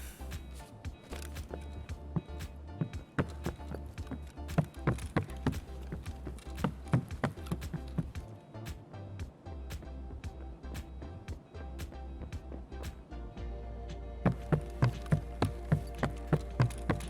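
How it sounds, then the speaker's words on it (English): Running footsteps in the shooter game Escape From Tarkov on the Interchange map, a steady series of thudding footfalls over a low hum, growing louder and sharper near the end. "I do hear running."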